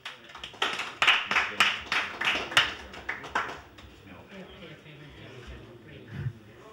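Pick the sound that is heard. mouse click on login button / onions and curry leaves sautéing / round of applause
round of applause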